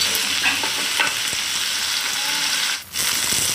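A potato and cauliflower masala with tomato, salt and turmeric is sautéed in a pan, producing a loud, steady sizzle with stirring scrapes and a brief dip near the end.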